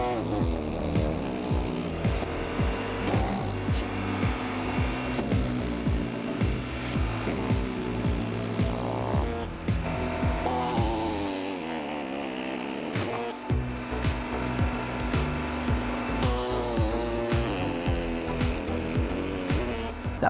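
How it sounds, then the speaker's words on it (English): A shingle cutter chops through a 30-year architectural asphalt roofing shingle with a run of repeated crunching, snapping cuts at an uneven rhythm, loud and close, with no one speaking. "we're gonna be cutting through just a 30-year, or what we classically knew as a 30-year architectural shingle."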